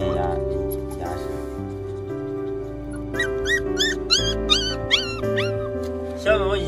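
Abandoned newborn puppies, still without teeth, cry for food with a series of high, wavering whimpers and yelps that grow more frequent midway, over a steady low background drone.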